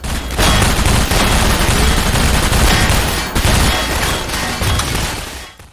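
A loud, sustained exchange of gunfire in Half-Life 2: dense, overlapping rapid shots and bursts from several weapons, rattling almost without pause for several seconds before cutting off.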